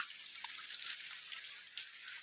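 Rain falls outdoors on a farm orchard, a faint steady hiss of light rainfall with a few soft drip-like taps scattered through it.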